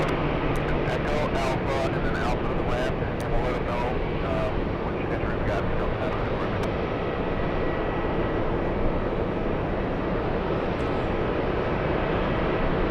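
A Spanish Airbus A350 airliner at JFK airport gives off a continuous loud engine roar that holds steady throughout, with a few sharp clicks near the start.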